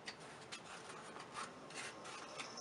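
Hand sanding wood with 80 grit sandpaper wrapped around a 2x4 block gives soft, rhythmic rasping strokes, faint and close, repeating steadily with no voices.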